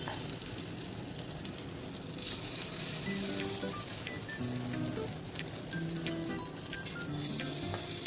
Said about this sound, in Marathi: अशा पद्धतीने मी सर्व मिश्रण टाकून घेते।